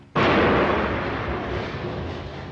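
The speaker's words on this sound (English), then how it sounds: "The terrorists panic, open fire and throw a hand grenade." A hand grenade blast during an airport shootout hits suddenly and loudly, then a broad, rumbling roar decays slowly over about two seconds. No separate gunshots stand out.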